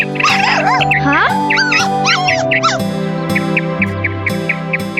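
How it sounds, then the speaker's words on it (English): A cartoon dog in an animated kids' story whimpers and yips in high, wavering cries. Music plays throughout beneath the cries. "I think you should help the poor dog."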